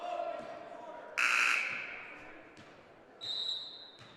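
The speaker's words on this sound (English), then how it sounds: "Inadvertent buzzer here, so it'll still be Bettendorf ball." A buzzer sounds twice at a high school boys basketball game between the Muskies and the Bettendorf Bulldogs, a loud sustained tone followed later by a shorter one over gym crowd noise.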